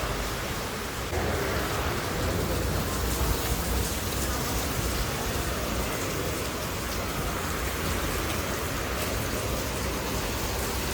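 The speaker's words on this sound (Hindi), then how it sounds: "ये देखो बारिश," Steady, heavy rain pours down, a dense hiss of drops on surfaces that barely changes from start to finish.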